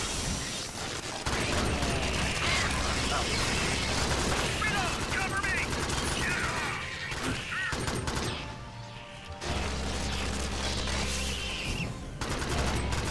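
Mechanical weapon fire in the video game Alien Swarm, dense clattering bursts with ratcheting, gear-like mechanisms that pause briefly midway before resuming, mixed with game noise and a person talking over it.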